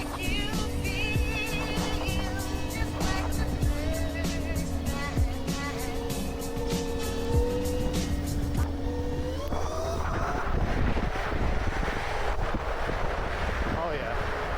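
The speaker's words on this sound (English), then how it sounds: "Plus there's a lot of traffic." Road traffic streams past on a busy road during evening rush: a continuous wash of engine noise with a sustained whine, heavily buffeted by wind noise throughout, with no clear talking.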